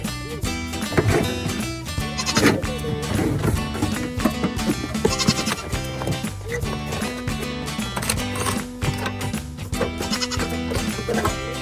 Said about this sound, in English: There's our goats.